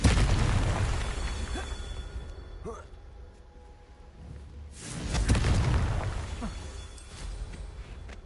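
A Confringo fire-spell explosion in Hogwarts Legacy, with booming blasts and rumbling bursts that rise and fade twice, heard over game background noise.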